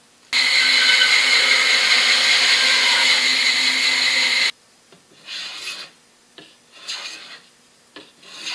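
The flared end of an H&R Model 12 target rifle's wooden stock is being cut off, a loud, continuous rasping saw noise running for about four seconds, then a few shorter scraping strokes at lower volume.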